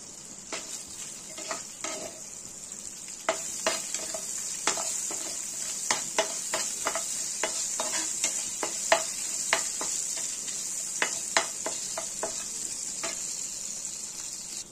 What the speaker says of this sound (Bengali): এখানে নিয়েছি তেজপাতা, দারচিনি, এলাচ, লবঙ্গ, গোলমরিচ আর শুকনো লঙ্কা দিয়ে আমরা একটা ফোড়নে দিয়ে দিলাম।